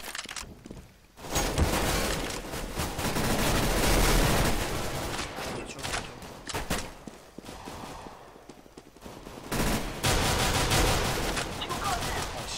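Rapid bursts of gunfire from a Counter-Strike: Global Offensive match, dense crackling volleys that surge and fade across the clip with brief gaps, mixed with game action and loud throughout.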